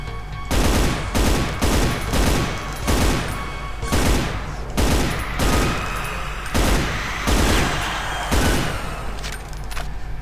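Rapid weapon fire in the shooter game Brutal Doom, a long run of loud sharp shots in an uneven rhythm of roughly a dozen blasts with echoing tails, no talking.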